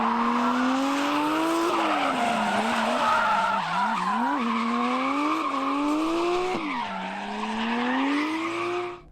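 A turbocharged car drifts close by with loud, sustained tire squeal over an engine whose revs swell and dip repeatedly, ending in a brief fade.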